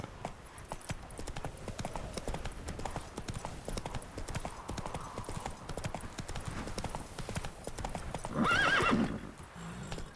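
A horse galloping in The Witcher 3, with a steady rapid clip-clop of hooves throughout and a loud neigh near the end, under soft ambient game sound.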